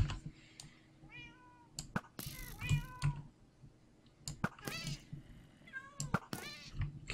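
Cats in Minecraft meow repeatedly in short rising and falling calls, several voices overlapping at close range amid sharp clicks and game noises, with no talking.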